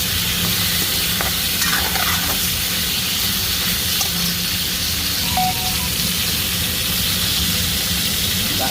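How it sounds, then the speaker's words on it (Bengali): Drumstick stalks fry in oil in a pan, salted, with a steady loud sizzle and hiss and a few occasional clinks of stirring. "ডাঁটাও ভাজা হয়ে গেল"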